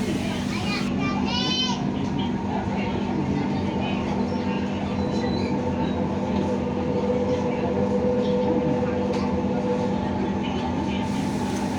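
Steady rumble and hum inside a moving Palembang LRT light rail car, with a constant low drone and children chattering in the background.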